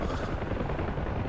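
UH-1 helicopter in DCS, a dense, continuous rotor thrum with steady choppy low-end pulsing, loud and unbroken throughout, no speech.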